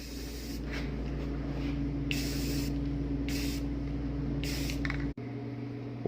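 Spray paint hissing onto a metal welding table in several short bursts, close and fairly quiet over a low steady hum, ending with a brief click.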